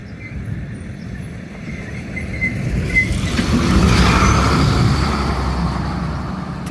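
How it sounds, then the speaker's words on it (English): A truck passing along English Street at Culpeper, a steady rising road rumble that swells near the middle and stays loud, with no talk over it. "tequila truck."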